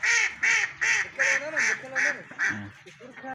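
Ducks from several countries quack in a zoo pond in Multan, giving loud, evenly spaced calls about twice a second for roughly three seconds, close to the listener, ending in a lower honk.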